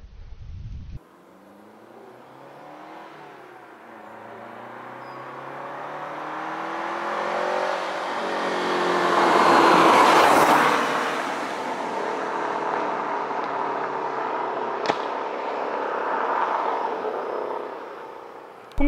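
A 30-year-old Lancia Delta Integrale 16v is driven on a national road; its engine note rises steadily and swells to a loud peak mid-way before settling into a sustained drone, with no talking.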